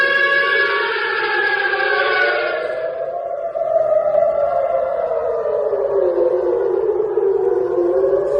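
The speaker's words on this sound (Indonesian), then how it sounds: "memicu kepanikan meluas dan membunyikan sirine peringatan di 139 lokasi berbeda di seluruh Israel" Wailing air raid sirens across Israel rise and fall in long overlapping tones, loud and continuous, one pitch sliding down while another drones beneath, warning of an incoming hypersonic missile from Yemen.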